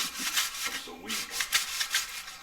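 Sandpaper rubs back and forth on a drag bike part in quick, close scratchy strokes, with a brief murmur of voice partway through.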